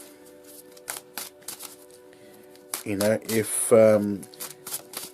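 Oracle cards are shuffled in quick, light papery riffles and flicks at close range, and a voice speaks over the later part.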